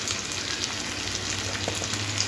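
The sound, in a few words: ginger-garlic paste sautéing with onions in a pan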